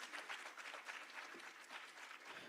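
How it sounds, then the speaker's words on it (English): An audience at a Women's Day event applauds with steady, continuous clapping at a faint, even level that never stands out clearly. "So please do give yourselves a round of applause firstly."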